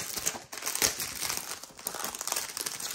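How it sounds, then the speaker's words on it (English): Plastic packaging bags holding diamond painting canvases crinkle and rustle as they are handled and opened, a close, continuous crackling with brief louder bursts. "And have some more crinkling again."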